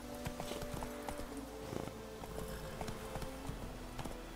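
Roach the horse trots in The Witcher 3, a rhythmic clip-clop of hooves that is fairly faint and steady, set against a soft background ambience.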